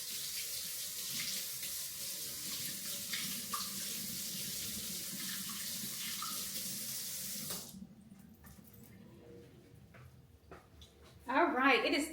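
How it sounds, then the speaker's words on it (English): A fork being washed under a running kitchen tap: a steady hiss of water for about seven and a half seconds, then it cuts off, leaving quieter clinks and handling. A person is talking alongside. "Let me wash that fork."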